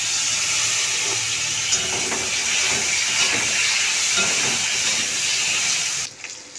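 Potatoes and black cumin seeds dropped into oil left from frying fish give a loud, continuous, close sizzle and hiss with a faint crackle throughout, dropping away sharply at the very end.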